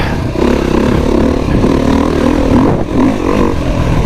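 A Beta RR motorcycle engine held high in the rev band, loud and close, a continuous raspy drone with slight pitch wobbles and one brief dip near the end.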